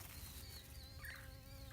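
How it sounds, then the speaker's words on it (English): A bee buzzing among giant squash plants in an early-June vegetable garden, a faint, steady hum against quiet outdoor background. "And there's a little bee doing its work that we like it to do."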